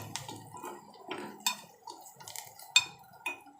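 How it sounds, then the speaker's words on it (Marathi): Malvani masala mixture for chicken liver stirred in a pan, a series of irregular metallic scrapes and clinks of a spoon against the pan, close and moderately quiet, with no talking. "मिश्रण व्यवस्थित एकजीव करून घेणार आहोत"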